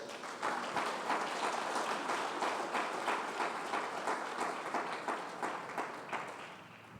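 A church congregation claps together in steady, dense applause that stays loud and even for the whole stretch before easing slightly at the end.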